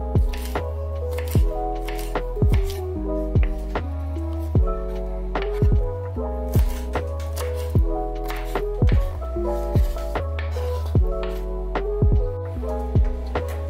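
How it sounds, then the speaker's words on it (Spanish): A knife chops nopales (cactus paddles) on a cutting board in a steady series of crisp, close thunks with wet squishy edges, repeating evenly with music playing underneath. "Lo primero que vamos a hacer es picar estos nopalitos."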